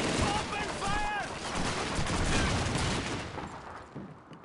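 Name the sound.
gunfire in Call of Duty video game battle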